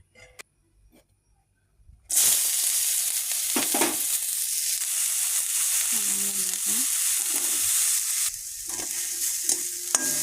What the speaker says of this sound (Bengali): পেঁয়াজ পেঁয়াজ আর লঙ্কাটাকে ভেজে নেব হালকা